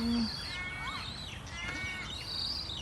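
Birds call outdoors in a steady chorus, with one repeated caw-like cry standing out among fainter chirps and tweets over a constant background hum.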